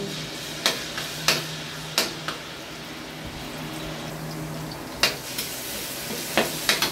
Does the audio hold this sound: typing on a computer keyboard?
no